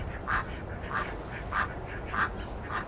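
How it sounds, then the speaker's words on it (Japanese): A duck in a home vegetable garden plot quacks loudly in a steady series of about five evenly spaced calls, close by with light background noise. "ガーガーしてる、ガーガーガーガーすごいね、ガーガー先生。"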